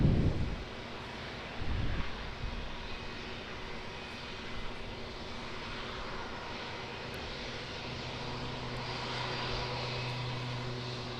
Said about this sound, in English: ATR 72-600, Air New Zealand.